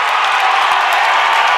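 Basketball crowd in a high school gym cheering for Sioux Falls Roosevelt against Watertown, a loud, steady wall of voices and clapping that stays even and close from start to finish.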